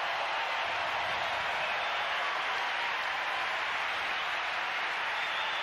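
Steady, sustained applause from a tennis crowd at the 1999 US Open fourth-round match between Krajicek and Spadea, a dense wash of clapping that holds evenly throughout.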